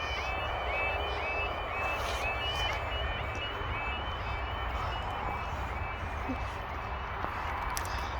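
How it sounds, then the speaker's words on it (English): A faulty level crossing warbling alarm at Drumbane Road skips irregularly, its wavering electronic tone repeating over a steady broadband rumble with no talking. "that alarm's dodgy now because of the fact that it's skipping"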